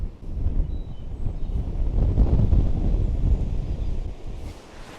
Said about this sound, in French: Oh le vent!